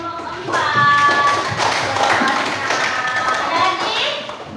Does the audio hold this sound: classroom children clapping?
yes